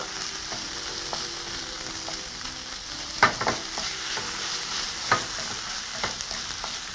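Pork chops frying in a pan, a constant loud sizzle with occasional sharp scrapes and clicks as the meat is stirred, close and free of talk.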